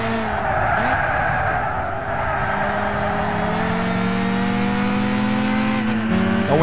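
In the racing game Gran Turismo 6, an older Renault Clio RS engine whines continuously through gear changes as the tires squeal and skid through corners, loud and close, with no voices over it.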